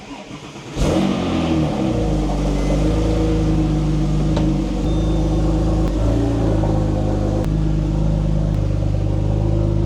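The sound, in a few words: rebuilt Porsche 997 Turbo engine starting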